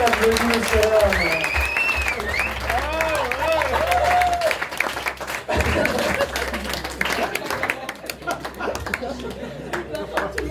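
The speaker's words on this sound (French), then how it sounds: "Applaudissements." Studio audience applause on a French television game show, sustained clapping mixed with crowd noise while a voice speaks over it and music plays underneath.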